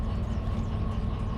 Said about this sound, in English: And then we can get this train on the move.